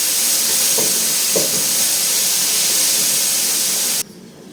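Tomatoes sautéing in a pan for fish curry, giving a steady loud sizzle and hiss with a couple of faint knocks, cut off abruptly near the end.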